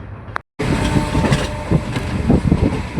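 A train running on the Wankaner–Morbi railway line near Vaghasiya village, a steady loud rumble of rolling wagons close by after a brief cutout, with rhythmic clatter throughout and no talk.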